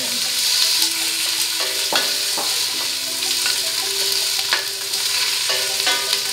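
Chopped onion sizzles in hot oil in a pan as the first step of beef sinigang, a steady frying hiss broken by occasional clicks and scrapes of stirring.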